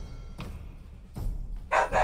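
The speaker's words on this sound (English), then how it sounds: "needs to stop barking" A dog barks in short bursts, three separate woofs spaced apart with the last a louder double bark, over a quiet background.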